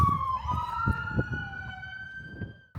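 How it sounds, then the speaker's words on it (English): A steady wailing police siren sounds nearby in Skagway, its tone sliding slowly over a low background rumble of traffic. "There's kids playing with the police sirens."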